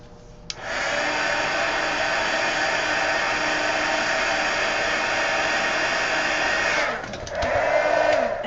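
A hair dryer blowing over wet paint on an altered-book collage page, switching on after a click and holding a loud steady whir for about six seconds before dipping briefly and coming back.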